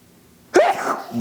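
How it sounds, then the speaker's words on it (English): A single sudden human sneeze bursts out after a quiet moment, close and loud, followed by a brief breathy trailing sound. "Hang on, I gotta sneeze."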